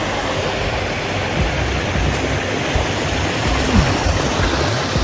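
A rocky mountain stream rushes over stones, a loud, continuous broadband wash of flowing water heard up close with no talking.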